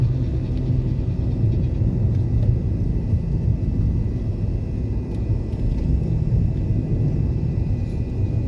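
An aircraft passes overhead as a continuous low, distant rumble that holds steady and even throughout, with no speech over it.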